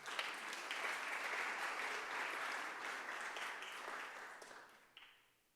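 Audience applause for Chisang Moon at the Cum Laude 2019 ceremony: a steady, dense patter of many hands, fairly quiet and distant, thinning out and fading over the final second.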